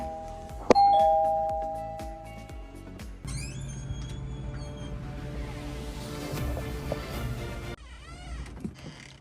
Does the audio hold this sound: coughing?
no